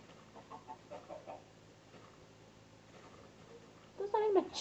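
Chickens in a video game cluck in short soft bursts, ending in a louder, closer squawk, with faint background sound throughout.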